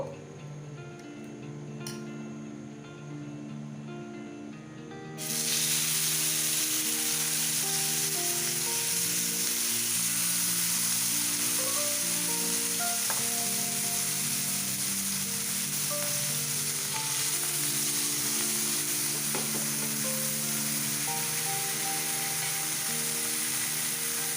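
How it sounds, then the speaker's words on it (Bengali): Beef for a Thai beef salad fries fast in a very hot pan, a loud, steady sizzle that jumps up suddenly after a quieter opening and holds, with soft background music throughout. "আমরা মোটামুটি 1 মিনিটের মতো করে হচ্ছে এক একটা পাশ ভাজবো।"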